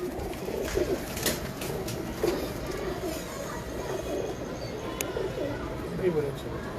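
Pigeons coo softly in a low, repeated rhythm at moderate distance while people talk nearby and light background noise continues.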